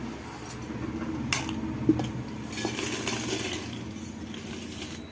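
Fried papad being packed into a metal storage tin, with light clinks and rustling knocks of metal and crisp wafers spread over a few seconds, close and fairly quiet, no talk.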